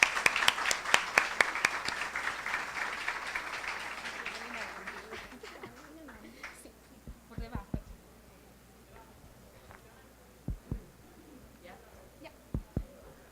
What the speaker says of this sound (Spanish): Señores, recibamos con un fuerte aplauso